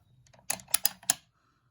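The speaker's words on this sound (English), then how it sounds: "So when you open the bolt," Bolt opened on a deactivated SMLE rifle, a short series of about four sharp metallic clicks and clacks, close and alone in a quiet room.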